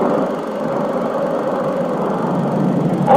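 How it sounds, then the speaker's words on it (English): A small solid-propellant rocket motor, fueled with a perchlorate or nitrate oxidizer, burns as a steady, loud, unbroken roar that holds at the same level throughout. "This motor is now fueled and ready for firing."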